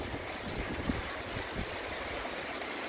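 Strong gusts of wind roar through persimmon trees on a hillside, a dense, constant rushing blast with faint rustling surges and no talk.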